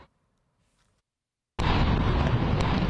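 Blast heard in Kyiv during a wartime drone attack. Near silence gives way to a sudden loud roar that keeps going as a dense, sustained rumble with no voices.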